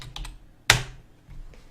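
A few soft computer keyboard taps followed by one sharp, louder key strike, then quieter keystrokes trailing off nearby.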